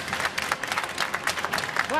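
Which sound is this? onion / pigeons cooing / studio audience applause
studio audience applause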